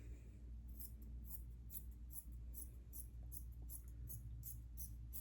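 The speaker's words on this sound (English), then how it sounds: "Just going to cut that off because I'm going to use it." Scissors snip through fabric for a handmade angel craft, a quiet, steady run of about a dozen crisp, evenly spaced cuts over a low background hum.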